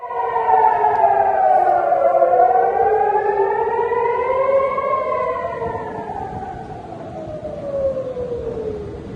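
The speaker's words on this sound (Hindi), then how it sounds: "यहां पर सायरन बज रहा है, सन्नाटा पसरा हुआ है।" An air raid siren in Israel wails loudly and steadily, its pitch slowly rising and falling in long sweeps, with nothing else audible.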